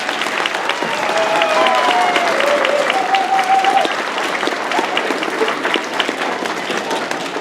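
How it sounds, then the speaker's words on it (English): An audience at a school band concert gives steady, sustained applause for the 8th grade percussion section, dense clapping that holds throughout with faint background voices. "let's give one round of applause for our 8th grade percussion again."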